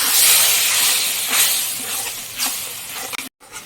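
Water poured onto fried spice paste in a hot pan sends up a loud burst of hissing steam that fades over a few seconds, ending in a brief clink and a short cutoff.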